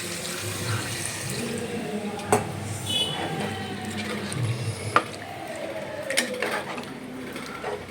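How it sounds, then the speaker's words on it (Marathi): Water splashes and runs into a pan of sizzling fried mutton masala, with a few sharp clinks and knocks of utensils along the way. "त्यात आपण थोडं पाणी टाकणार आहोत"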